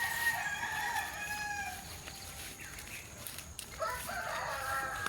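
A rooster crows on a rural farm in the morning, two long crowing calls a few seconds apart over a constant background of outdoor ambience and distant birds.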